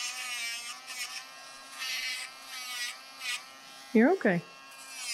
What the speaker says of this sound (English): Short strokes when you're using the Dremel.